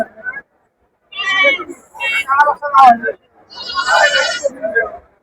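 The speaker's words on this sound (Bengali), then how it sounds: "ছাগলও ওঠে প্রচুর।" Goats bleating at a rural village goat market, several loud, close wavering bleats in bursts separated by short pauses, with crowd chatter around them.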